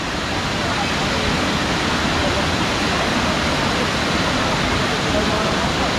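Water pours steadily at Tanawan Falls in Dingalan, Aurora, a dense, even rushing roar that stays loud and unbroken throughout.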